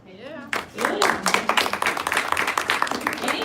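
A panel audience claps, a burst of quick overlapping hand claps starting after a brief opening voice and continuing loudly and unevenly to the end.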